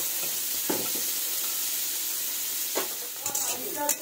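Bitter gourd fries in a pan with a constant soft sizzle, while a few scraping stirs of a spatula break through at intervals.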